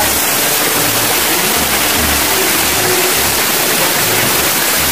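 Loud, steady rush of a rain-swollen river near a village in Dadyal, Azad Kashmir fills the whole clip, a dense broadband roar with low rumbling underneath and no voices.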